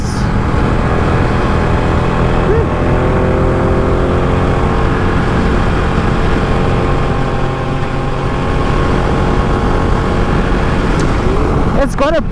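A 2017 Ducati Panigale 1299 motorcycle engine runs in a loud, steady low drone throughout, with a brief rev near the end and a rider talking over it.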